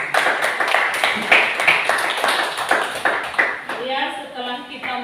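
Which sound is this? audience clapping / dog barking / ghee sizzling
audience clapping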